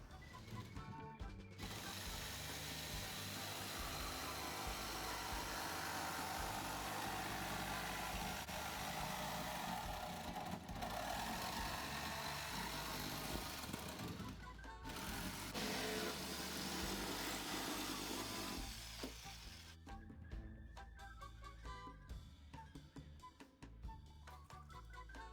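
A power tool grinds steadily through an old Volkswagen Beetle gas tank that sat since 1987, a loud continuous mechanical whine for most of the span, then a rougher, choppier cutting sound toward the end.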